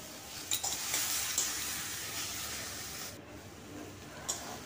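Eggplant, tomato, mashed garlic and salt frying in a pan while being stirred, a steady close sizzle and hiss broken by a few scraping clicks of the spoon, with no talk.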